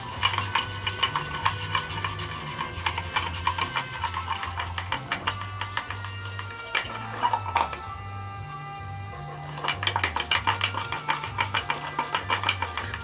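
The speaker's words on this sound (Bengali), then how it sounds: "আর চামচ দিয়ে খুব ভালো করে ফেটিয়ে নেব" A spoon beats instant coffee, sugar and a little water in a cup, giving a fast, rhythmic run of close clinks and scrapes that pauses briefly partway through and then resumes.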